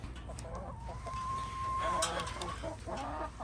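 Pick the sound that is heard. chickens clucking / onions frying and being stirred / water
chickens clucking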